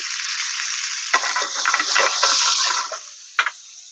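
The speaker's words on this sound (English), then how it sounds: "So be careful when you add these two liquids with this hot oil. They are going to spatter." Lemon juice and white wine vinegar hit hot olive oil with a loud, steady spattering hiss, broken by a few sharp crackling pops near the end.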